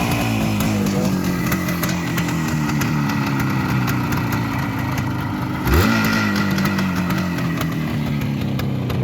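A 1974 Suzuki T500 Titan two-stroke motorcycle engine idles loudly and close, then gets a quick blip of the throttle partway through before settling back to a steady, buzzing idle.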